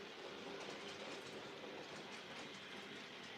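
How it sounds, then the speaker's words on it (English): Hornby model train wagons roll over the points of a model railway, giving a steady faint clatter of small wheels throughout with no talking. "Quite pleased to see Normandy get over the points with that train."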